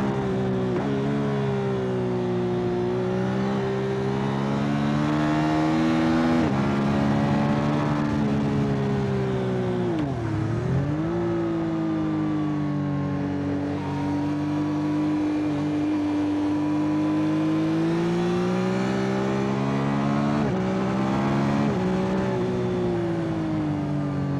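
A 2025 Yamaha XSR 900 motorcycle engine drones continuously while riding, its pitch rising and falling with the throttle, under steady wind rush; nobody speaks.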